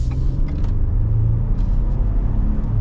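A Ford F-150 Black Widow pickup with a 3.5L EcoBoost engine accelerates at part throttle, giving a loud, steady low engine rumble heard from inside or near the truck.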